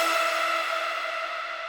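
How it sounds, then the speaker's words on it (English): Nexus Orchid Drops factory lead, originally a pluck preset, sustaining as a bright harmonic synth tone that stays loud and steady, fading only slightly over a couple of seconds with no voices. "which is the Orchid Drops lead from Nexus."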